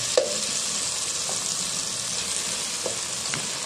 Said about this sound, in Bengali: টমেটো সহকারে আমি ভেজে নিব।